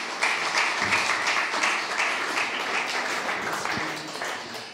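An audience applauds illustrator Denis Corman at the Prix Chronos 2023 ceremony, a dense, fairly loud round of clapping that stays steady throughout and fades slightly at the end.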